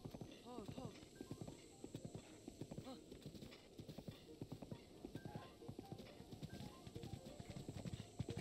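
Horse hooves clip-clop in a steady galloping rhythm in The Legend of Zelda: Breath of the Wild, with a brief whinny early on and a person talking over the gameplay.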